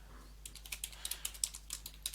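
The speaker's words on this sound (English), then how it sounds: "Type in yum search once again" A terminal command typed on a computer keyboard, rendered as a quick, irregular run of crisp key clicks, close and fairly quiet over a faint steady hum.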